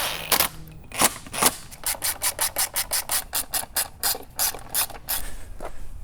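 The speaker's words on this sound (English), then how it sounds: "Let's throw those screws back in." Screws are driven back into motorcycle hardware with a ratchet, a quick run of about a dozen evenly spaced clicking pawl strokes, close and crisp with brief pauses around them.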